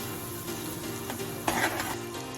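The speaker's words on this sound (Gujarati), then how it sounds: "તો આ રીતના એકદમ મિક્સ થઈ જાય શાકમાં ત્યાં સુધી મિક્સ કરીશું, હલાવીશું." Sour curd being stirred into okra curry with garlic chutney in a pan gives a steady wet sizzle, with close scraping and sloshing strokes that peak in a louder burst midway and no talk over them.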